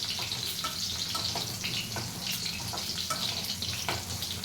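Oil frying steadily for a homemade Telugu-style pickle, a continuous close hiss and crackle without pause and without talk.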